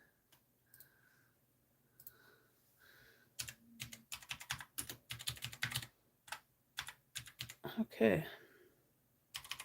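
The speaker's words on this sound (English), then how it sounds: "Let me check the typing." Typing on a computer keyboard: quiet, irregular bursts of rapid key clicks, with a brief spoken word and some faint tones near the start.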